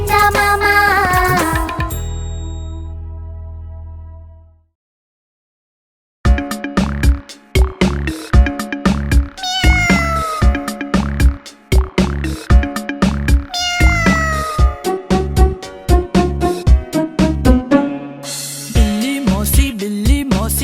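Cat meows repeat in quick succession within a bright children's song, each cry rising and falling over jingling music, loud and close, with a short silent gap near the start.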